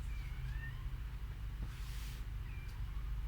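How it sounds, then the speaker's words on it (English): Cats meowing outdoors, two faint, distant rising meows a couple of seconds apart over a constant low background hum. "You can hear all the cats meowing out there."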